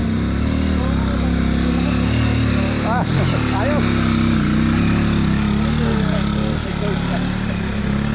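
Trail motorcycle engine labouring on a steep mountain climb, a steady loud mid-pitched drone that holds throughout, with brief voices and shouts of riders cutting through the engine noise.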